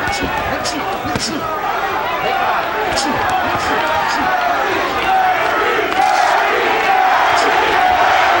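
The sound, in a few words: boxing crowd chanting Curry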